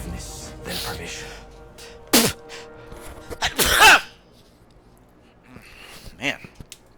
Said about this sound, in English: I keep sneezing today.